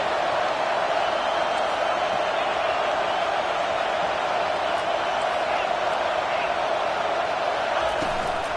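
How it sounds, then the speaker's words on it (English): Steady, dense roar of a large college football stadium crowd, loud and continuous throughout with no breaks, a broadband wash of many voices. "This crowd bringing the energy and noise early."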